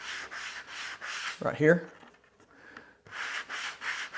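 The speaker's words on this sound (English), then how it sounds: "This is about I think this is like a 100, maybe a 120 grit sanding block." Hand sanding of leather with a 100 to 120 grit sanding block, heard as steady, close rasping strokes in a quick back-and-forth rhythm, broken by a brief pause and a short vocal sound mid-clip.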